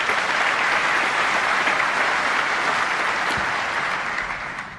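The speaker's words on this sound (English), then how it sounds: "A nice round of applause there from" Steady applause from a sizable snooker crowd at the 2009 Masters final, dense and even, tapering off slightly at the end.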